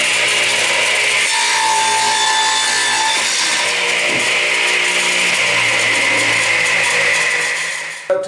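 Saw cutting a wooden board to 47 inches against a stop block, a loud continuous rasping cut lasting about eight seconds, close by, ending abruptly as the blade finishes.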